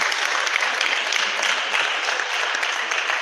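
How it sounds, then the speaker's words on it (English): An audience gives a lecturer a round of applause at a seminar workshop, steady, dense clapping from many hands that holds for a few seconds. "Please, can you give him a round of applause?"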